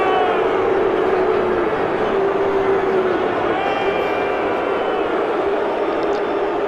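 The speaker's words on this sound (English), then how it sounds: "Crowd booing the defensive line." A large stadium crowd at a football game booing the defensive line, a dense continuous roar that holds steady and loud throughout with no clear breaks.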